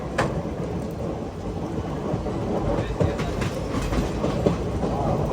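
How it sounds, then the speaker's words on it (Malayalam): Heavy rain drumming steadily around a moving Palaruvi Express sleeper-class train nearing Aluva station, with a dense continuous roar, rail rumble underneath and faint distant thunder, loud and enveloping throughout. "നല്ല മഴയാണിപ്പോൾ."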